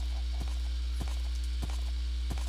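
Hoof clip-clops from a horse in a video game land as sharp, evenly spaced knocks about every half second, over a steady low electrical hum and without talk.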